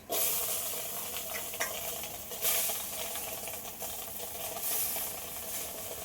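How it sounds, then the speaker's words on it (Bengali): Cut yardlong beans dropped into a hot wok hiss loudly the instant they land. The bright, close sizzle stays steady, with a couple of stronger bursts as they are stirred. "বরবটিগুলো আমি কড়াইয়ের মধ্যে দিয়ে দেবো"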